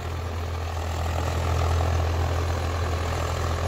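A Swaraj 744 XT HLM tractor engine runs steadily nearby, a continuous low diesel drone with constant loudness and no voices over it.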